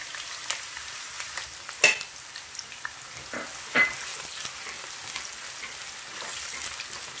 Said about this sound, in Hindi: इसमें हम सबसे पहले प्याज तलेंगे, और प्याज को हमको हल्का सा ब्राउन करना है